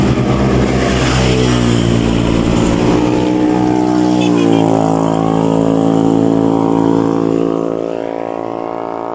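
A Honda Click scooter engine running at an endurance ride, a steady buzzing drone that rises in pitch as it revs and passes, then fades slightly toward the end, with no talking.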